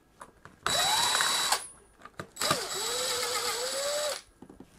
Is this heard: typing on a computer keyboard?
no